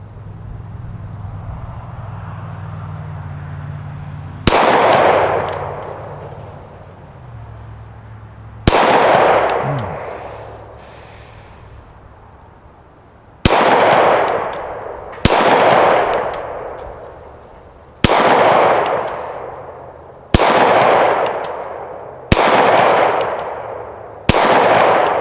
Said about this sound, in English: I know I was shooting too fast.